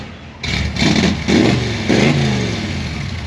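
Close and loud, a 1957 Chevy Bel Air engine idles and is blipped four times, each rev swelling briefly before dropping back to a rumbling idle.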